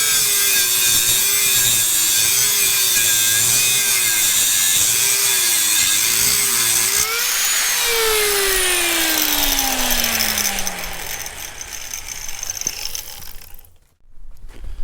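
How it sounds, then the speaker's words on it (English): An angle grinder works steel for a Caterpillar D2 belly pan, loud and close, with a steady whine that winds down and fades near the end. "More grinding."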